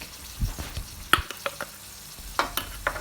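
Shrimp and chopped garlic stirred in a hot pan, a soft sizzle under a few sharp scrapes and clicks of the utensil spaced irregularly, close and fairly quiet.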